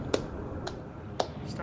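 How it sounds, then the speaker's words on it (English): Sharp hand claps or finger snaps, two loud close ones about a second apart with a fainter one between, over a low steady background hum during a Subnautica gaming session. "I'm clapping!"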